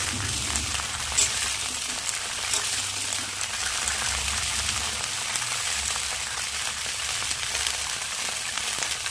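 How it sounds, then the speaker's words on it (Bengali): Cauliflower florets fry in hot oil seasoned with cumin, bay leaf and dried red chilies, a continuous hissing sizzle that stays even and fairly loud throughout. "তেলটা গরম হয়ে গেছে, এর মধ্যে এখন ফুলকপিগুলো দিয়ে দেব। ফুলকপিগুলো সব ভেজে উঠাবো।"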